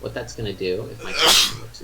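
Someone talks briefly, then a single loud sneeze bursts out near the end, sharp and close.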